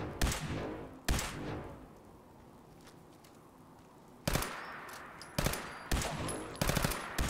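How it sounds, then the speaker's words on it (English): Gunfire rings out in the video game Fallout 4: a short burst, then a single shot, followed by several sharp rapid bursts after a quiet pause. "Keep shooting it."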